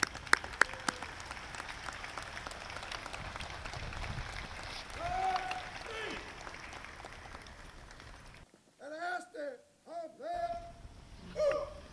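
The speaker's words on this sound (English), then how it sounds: "Big round of applause, ladies and gentlemen." Applause ripples through the crowd at an outdoor Memorial Day ceremony, steady for several seconds before cutting off, with scattered voices and talk following.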